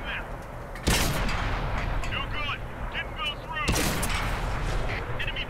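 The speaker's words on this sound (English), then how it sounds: "I fired an APCR at a tank destroyer, and I only put one penetrating round into him, two now, and three" Two heavy booming shots from a tank cannon firing APCR rounds in World of Tanks, spaced a few seconds apart over game background noise, with someone talking throughout.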